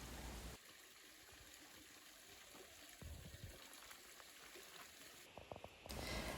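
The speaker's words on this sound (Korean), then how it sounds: "조용히 물소리를 들으며 휴식을 취하기에도 좋은 공간이에요" A small stream trickles gently through a quiet forest valley, the soft, steady water sound faint and continuous with no voices.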